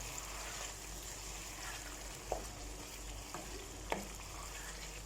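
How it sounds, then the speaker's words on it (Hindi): Crushed ginger and potatoes sizzle quietly in a pan, a constant faint frying hiss broken by two or three light stirring taps, no talk. "कुटा हुआ अदरक ऐड करने के बाद इसे हम 1 मिनट के लिए और भून लेंगे"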